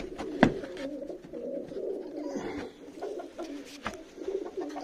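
Pigeons coo repeatedly at a farm dovecote, soft rounded calls rising and falling over a steady low murmur of the flock, with a few sharper knocks and rustles close by and no talking.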